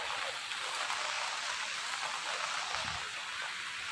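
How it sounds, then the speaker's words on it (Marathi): Rain patters steadily onto a mobile phone outdoors at a national park, a soft continuous hiss of drops with light irregular taps, fairly quiet and without speech. "माझ्या मोबाईलवरती पाऊस पडतोय"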